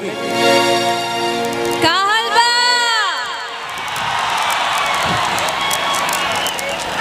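A loud voice rings out at a stage show, then a large crowd bursts into sustained cheering, whooping and clapping that fills the rest of the moment.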